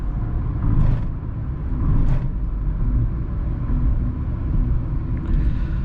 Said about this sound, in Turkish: Bu kötü kalitesiz asfaltta yol sesi baya bir rahatsız edici.